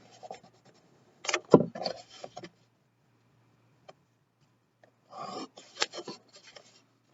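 Pencil or pen strokes drawing a line along a ruler while graphing a trig function, two short bursts of scratchy rubbing separated by quiet, close and faint.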